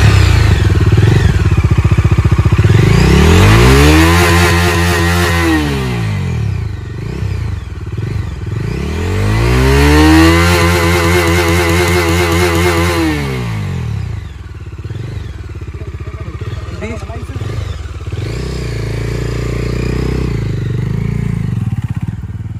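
A motorcycle engine idles close by and revs up twice in long rising and falling swells, with some rattling clatter between them.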